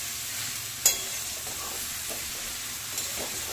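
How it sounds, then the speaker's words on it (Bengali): Ridge gourd and tomato stir-frying in spices, a continuous gentle sizzle with a sharp scrape of stirring near the start and a softer one later. "এবার আরো কিছুক্ষণ ভালো করে কষতে থাকবো"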